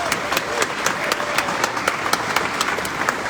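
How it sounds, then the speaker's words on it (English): Crowd at a food bank charity gala applauds the food bank team, a steady wash of many hands clapping with sharp individual claps standing out, loud and continuous throughout. "Huge applause to Team GBFB."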